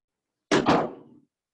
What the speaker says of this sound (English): Go out through the door.